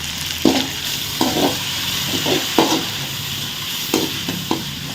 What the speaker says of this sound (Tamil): வெங்காயம் நல்லா வதங்கிடுச்சு இப்போது தக்காளி பருப்பு போட்டுடலாம்